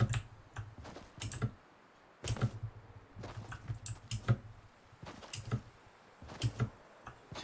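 Keys clack on a PC keyboard during a Fortnite game. Quick clusters of crisp, close taps and clicks come in irregular bursts with short pauses between them.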